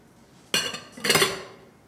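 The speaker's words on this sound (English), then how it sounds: "And I'm going to stir it as soon as I get it all in there." Eggs, mushrooms and onion are stirred in a pan, with a utensil scraping and clinking against it in two short, bright bursts about half a second apart, close and fairly loud.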